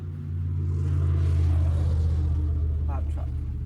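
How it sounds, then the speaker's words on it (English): A loud truck rumbles past outdoors, a heavy low engine drone that swells and then holds steady over a few seconds. "a loud truck."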